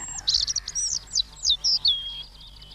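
A European robin sings a run of thin, high, warbling phrases broken by short pauses. The song is clear and fairly close, over a faint low background hum.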